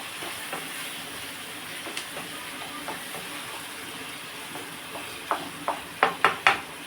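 Onions fry in a covered pan for an eggplant and egg curry, giving a steady hiss and sizzle with soft clinks. Louder stirring or lid knocks build near the end.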